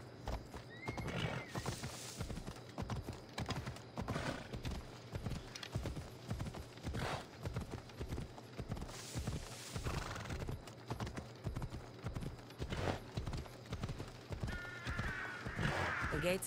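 A horse in the video game Assassin's Creed Odyssey gallops in a steady, rhythmic clip-clop of hooves, with several loud neighs and whinnies breaking in over the running beat.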